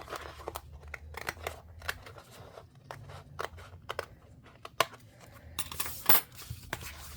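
Scissors cutting paper for a craft spread, a quiet series of separate snips and crisp paper rustles, close up and irregular, with no talk.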